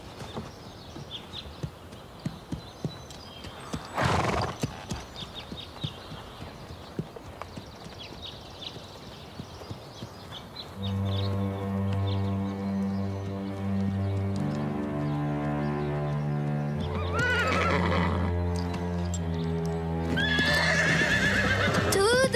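A horse named Prancer neighs loudly as hooves clop in an uneven rhythm, followed by long, shrill whinnies with rising and falling pitch that grow more insistent toward the end.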